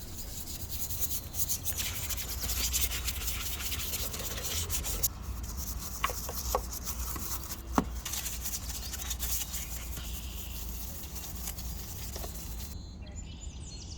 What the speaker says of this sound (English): While I'm buffing this off